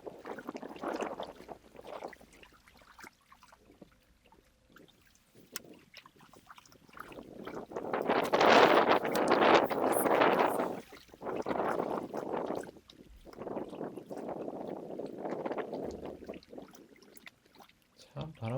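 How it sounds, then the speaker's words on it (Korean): Strong wind at a crucian carp fishing spot on fast-flowing water blows in heavy, rushing gusts that swell and fade against the microphone, loudest in a long surge midway, with quieter lulls between. "참 바람 많이 불어요."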